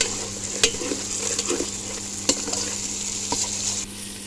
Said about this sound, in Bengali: আর চুলার পাওয়ারটা একটু হাই হিটে দেওয়া হলো এবং মাথাটা সুন্দর করে কষিয়ে নিতে হবে